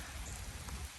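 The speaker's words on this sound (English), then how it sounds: "It's raining a little bit, so I'm gonna make this quick." Light rain patters outdoors beside a gutted 1973 Ford Mustang Grande, a faint, even hiss of drops on surfaces with no voices.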